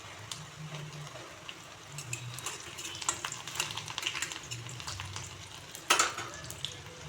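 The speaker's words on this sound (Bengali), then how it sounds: "রসুনগুলোকে কড়া ভাজবো না" Garlic cloves frying over a low gas flame in a pan, giving a soft steady sizzle with light crackles and a brief louder clatter near the end, no voices.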